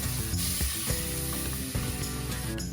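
A stick of butter melting in a hot cast iron pot inside a smoker's cook chamber, giving a dense, continuous sizzle with a steady mechanical hum underneath and a few faint knocks.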